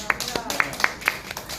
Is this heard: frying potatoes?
no